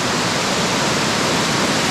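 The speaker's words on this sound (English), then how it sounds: "Check this out, and then it forms another waterfall." A waterfall flows from river pools in Meghalaya, India, producing a loud, close, unbroken roar of rushing water with no voices over it.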